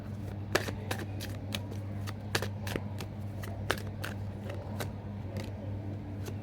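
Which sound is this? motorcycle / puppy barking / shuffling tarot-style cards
shuffling tarot-style cards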